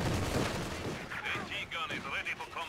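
Machine gun fire from a Maxim gun in Company of Heroes 2, a rattling burst of rapid shots in the first second with battle noise running underneath. Whistling, warbling effects follow, and a voice talks over the game.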